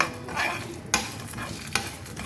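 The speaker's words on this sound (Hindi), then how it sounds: "थोड़ा सा मैं इसके अंदर ऑयल डालूँगी ताकि हमारे मसाले में एक चिकनाहट रहे। अब इसके साथ हम इसको भून लेंगे।" Spice masala with black pepper roasting in a little oil while being stirred, a soft steady sizzle with two sharp spatula knocks against the pan.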